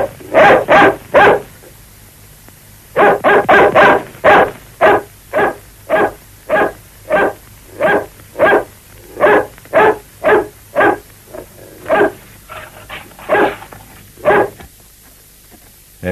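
A dog barks loudly and repeatedly at close range, first in a quick cluster of barks, then after a pause in a long, steady series of regular barks.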